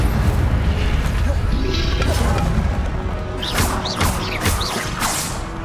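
In Hogwarts Legacy, the Incendio fire spell blasts out amid dense combat noise, with loud booms, whooshes and crashing impacts rolling continuously, then sharper swishing hits toward the end.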